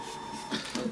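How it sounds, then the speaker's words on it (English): A printer whirs and clicks quietly by itself as it services its print heads, a faint mechanical hum with a couple of soft bumps of movement, no talk heard. "That's my printer deciding to do what it wants."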